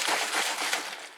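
A lidded glass jar of leftover mushroom liquid and sauce is shaken by hand, giving a steady, close sloshing rattle that stays fairly even for about a second with no voices.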